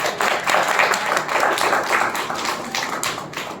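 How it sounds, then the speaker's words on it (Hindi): An audience at a diet-system camp lecture breaks into clapping, a dense, lively patter of many hands close by that carries on evenly throughout. "इनके नाम से एक ताली बजा दीजिए"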